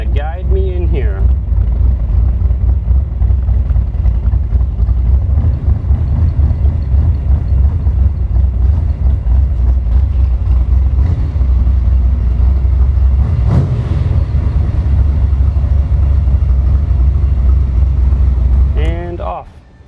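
A Cobra with a 480 cubic inch stroker engine and five-speed gearbox drives along, its deep, loud exhaust rumble running continuously before cutting off at the end.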